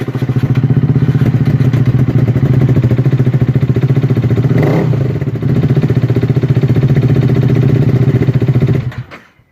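Yamaha YZF-R125 motorcycle engine running loud and close with a steady pulsing drone, a brief clatter midway, then cutting out at the end, no talking.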